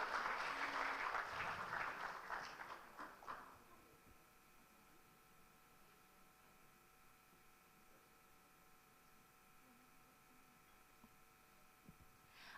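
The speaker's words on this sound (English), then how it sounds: "Can we please give a big round of applause for him?" Workshop audience applauding a speaker, a dense burst of clapping for about three seconds that fades out, leaving a quiet room with faint background hum.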